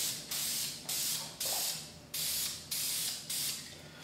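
Spray can applying self-etching primer to motorcycle front forks: six short, evenly spaced bursts of hissing spray, each fading slightly before the next, close and fairly quiet with no talk.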